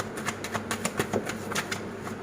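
Tarot cards are riffled and shuffled in a quick run of crisp, rapid flicks, close and fairly quiet, with no talking.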